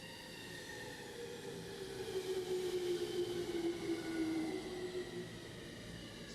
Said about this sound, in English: this is what a Japanese train sounds like